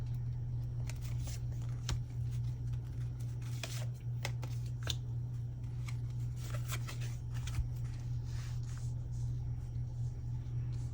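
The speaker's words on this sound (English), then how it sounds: "But let's see 3 more cards for Scorpio." Tarot cards being shuffled by hand give soft, rapid riffling clicks and scattered taps over a steady low hum, with no talking.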